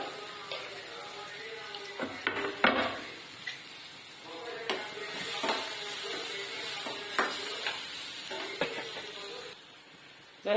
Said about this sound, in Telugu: వేగుతున్న ఉల్లిగడ్డలు